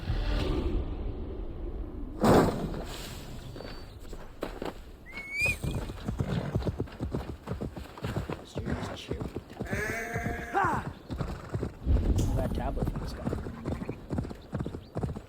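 Horse hoofbeats clopping steadily in the video game Assassin's Creed Valhalla, with a couple of neighs and snorts rising over the rhythmic gallop and some game sounds.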